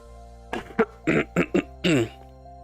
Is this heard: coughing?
yes